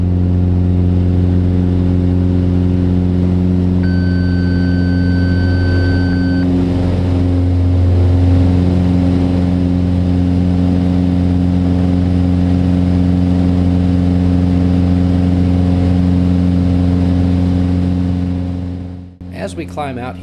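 A Mooney light aircraft's piston engine and propeller drone loud and steady during the climb after takeoff, a deep, even hum heard from inside the cabin, with a brief thin tone early on, before it fades out near the end.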